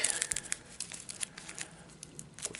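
A deck of Arkham Horror spell cards is shuffled by hand, giving close, crisp riffling and flicking crackles with a few sharper snaps, fairly quiet and with no talk.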